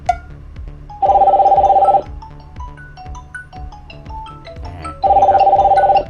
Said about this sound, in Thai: มีสายเข้ามาแล้วนะครับ เราก็สามารถกดรับได้ได้เลยนะครับ